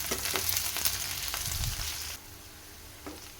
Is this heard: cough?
no